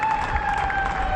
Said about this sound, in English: Will be applauded by his teammates